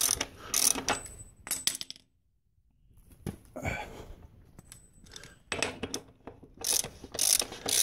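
A ratchet wrench loosens the rear axle nut on a dirt bike, giving close, crisp bursts of rapid clicking broken by short pauses.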